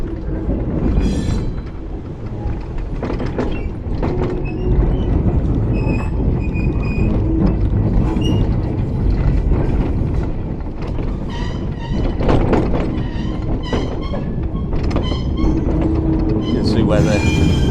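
A diesel locomotive and an HST train at a heritage railway station give off a steady, loud mechanical rumble with rail clatter and occasional metallic squeals, running under scattered talk.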